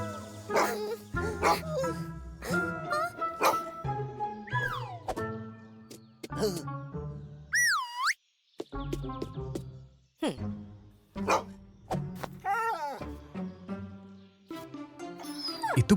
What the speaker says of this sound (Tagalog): Hinabol ng aso ang mga magkaibigan, pero nagawa nilang umakyat sa bakod.